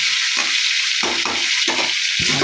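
Jackfruit pieces frying in hot oil in a pan give a steady, close sizzle, broken by several stirring scrapes and bursts of louder crackle, with no talking.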